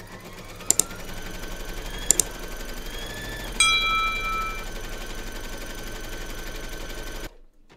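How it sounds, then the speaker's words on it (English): An embroidery machine stitches a placement outline on batting for a Surfing Santa appliqué, its steady rapid needle chatter running close and loud, broken by a few sharp metallic clicks before the motor cuts off near the end. "Pop your hoop into your machine and stitch round number 2"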